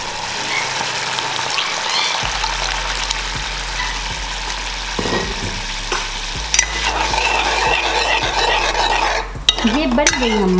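Ridge gourd (tori) sabzi cooking down in a pan as its water boils off, a steady sizzle broken by scraping stirs and occasional clinks of a utensil against the pan, close and without talk.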